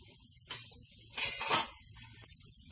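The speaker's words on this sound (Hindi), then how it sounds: "अब हमारा घी गर्म हो चुका है, हम डाल देंगे इसमें सूजी" Semolina (suji) tipped into hot ghee in a kadhai over a gas flame, giving a faint, soft sizzle in a few short bursts, the longest near the middle, over quiet background.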